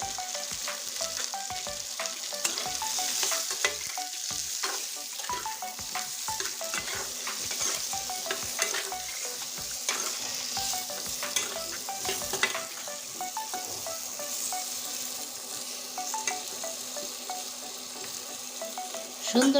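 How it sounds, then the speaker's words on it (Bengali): Potato pieces seasoned with salt and turmeric fry in a pan with a continuous sizzle, broken by frequent scraping and stirring clicks of a utensil against the metal. "আলুগুলো লাল লাল করে ভেজে নিয়েছি"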